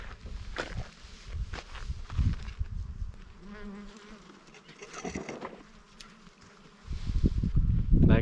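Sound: bees buzzing

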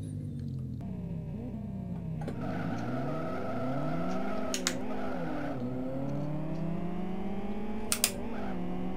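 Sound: Nissan Silvia S14 tires skidding in Live For Speed video game

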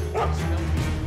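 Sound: dogs barking in the video game Mark of the Ninja

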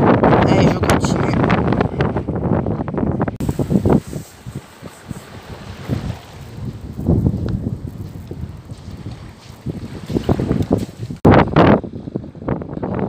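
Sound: wind blowing at the beach

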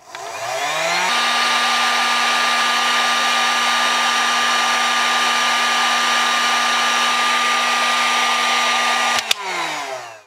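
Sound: heat gun blowing hot air on wire splice

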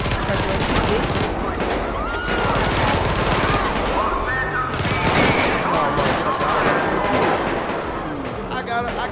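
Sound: gunfire in video game GTA V

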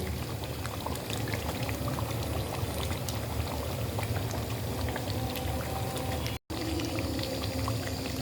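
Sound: adding green chillies and ghee to simmering beef korma

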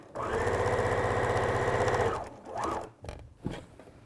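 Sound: sewing machine stitching lining to outer fabric

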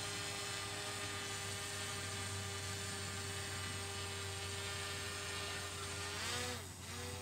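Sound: DJI drone hovering at high altitude

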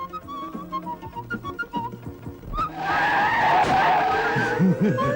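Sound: truck skidding before crashing, film scene

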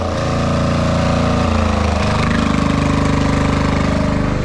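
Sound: diesel engine running with exhaust

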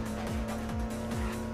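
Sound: car driving in the video game Midnight Club 2

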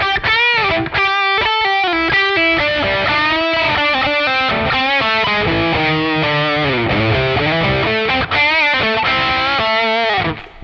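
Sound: electric guitar through NUX Cerberus distortion

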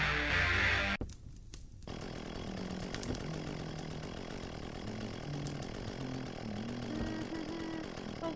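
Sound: chainsaw running in horror video game Bashed.OS

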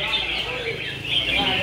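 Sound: competition songbirds calling at a bird contest

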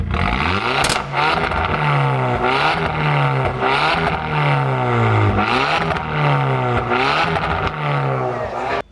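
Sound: tuned car variable exhaust revving

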